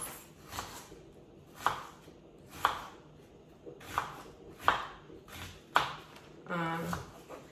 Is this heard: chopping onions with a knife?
yes